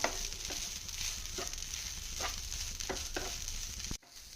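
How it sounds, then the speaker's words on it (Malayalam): Puttu flour is roasted in a pan and stirred in slow, regular strokes, giving a soft, faint dry sizzle with a scrape each second or so until it stops abruptly. "പുട്ടുപൊടി ഇട്ട് കൊടുക്കാം നന്നായിട്ട് ഒന്ന് ഇളക്കി കൊടുക്കുക"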